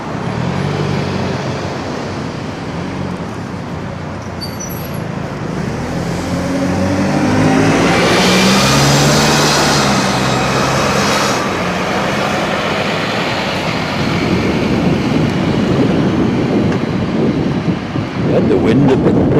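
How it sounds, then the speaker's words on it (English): Outdoor wind buffeting the microphone, a dense low rumble that swells and fades, roaring loudly throughout with no clear voices. "I don't want you getting wind noise"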